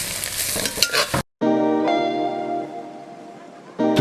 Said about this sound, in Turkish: Şimdi kereviz ve kapyalarımı tencereme ilave ediyorum ve kavurmaya devam ediyorum.